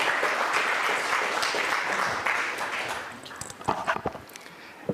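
Audience applause at the Forty Under 40 Awards UK 2025 ceremony, a dense sustained clapping from a large crowd that thins and breaks into scattered claps toward the end.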